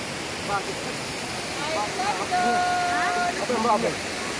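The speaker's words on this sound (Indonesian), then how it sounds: "kami lagi di air terjun" A waterfall's steady broadband rush fills the background while people talk and call out over it.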